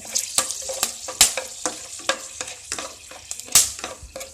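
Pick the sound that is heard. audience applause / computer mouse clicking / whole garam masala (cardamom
whole garam masala (cardamom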